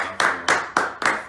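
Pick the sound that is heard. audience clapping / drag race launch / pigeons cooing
audience clapping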